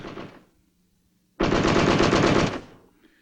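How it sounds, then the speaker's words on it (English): An M60 machine gun, an air-cooled U.S. Army weapon, fires a loud sustained burst of about a second after a short earlier burst and silence, in rapid, even automatic fire. "The M60 is the standard machine gun for the U.S. Army."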